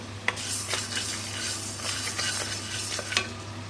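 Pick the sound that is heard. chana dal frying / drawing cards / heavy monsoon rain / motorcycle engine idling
chana dal frying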